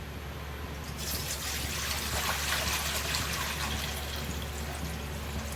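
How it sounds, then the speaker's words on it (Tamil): Water pours steadily into a kadai for cooking rice, a continuous close trickle that starts about a second in and keeps flowing at an even level with no talk. "தண்ணி வந்து நான் தேவையான அளவு ஊற்றிக்கிறேன்."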